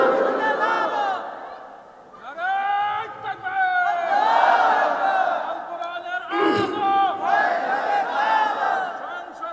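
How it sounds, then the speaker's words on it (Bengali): A large crowd at a Bengali religious tafsir gathering shouts takbir in loud, repeated chanted responses, voices rising together in waves, led by a call and answered in unison. "দু হাত তুলে তাকবীর দিয়ে দেখায় দেন"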